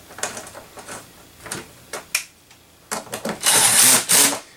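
A tool tightens the negative terminals on a LiTime 12V 230Ah LiFePO4 deep-cycle battery with a close, loud burst of rapid ratcheting clicks and mechanical whirring that turns into a sustained, harsh, buzzing grind.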